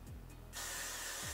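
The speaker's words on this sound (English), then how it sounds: "I'm gonna spray the top nail with some Got to Be Glue gel." A short, close hiss of Got to Be Glue gel sprayed onto the top of a synthetic wig, one steady burst lasting under a second after a quiet start.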